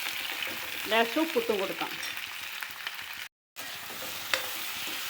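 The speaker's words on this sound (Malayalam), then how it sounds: "സബോള നന്നായി ഇളക്കി കൊടുത്തിട്ട് സബോള വാടി വരണം" Four lengthwise-sliced onions sizzle in a pan for pepper chicken roast while being stirred, with scraping, clattering stirs early on and a steady frying hiss. Someone speaks briefly, and the sound drops out for a moment.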